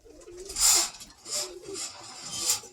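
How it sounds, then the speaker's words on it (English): A pigeon cock bird coos in several soft, breathy bursts close by, with a low murmur beneath. "Real nice cock bird right here."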